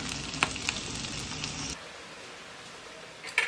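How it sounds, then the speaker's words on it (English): Onions frying for mujaddarah sizzle loudly in a pan with a few sharp stirring clicks, then the sizzle drops to a faint hiss before one more brief clatter at the end. "I need to stir my onions."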